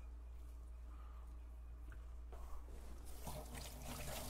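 Kitchen tap running at a sink while hands are washed during homemade dog food preparation, faint and steady at first, then swelling into a louder splashing flow near the end.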